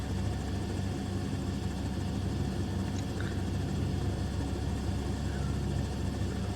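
A Robinson R44 helicopter in flight fills the cabin with a loud, steady engine and rotor drone that holds constant and close throughout.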